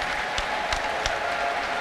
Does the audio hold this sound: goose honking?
no